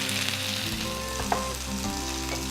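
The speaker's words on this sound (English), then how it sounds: "Make sure you keep going back to your spuds. Giving them a bit of a stir." Potatoes sizzle and crackle steadily in a frying pan as they are stirred, a close, continuous frying hiss with occasional scraping knocks of the utensil.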